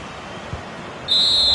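A referee's final whistle in the EA FC 25 football video game sounds as one sharp, sustained high whistle blast cutting in over low stadium crowd noise.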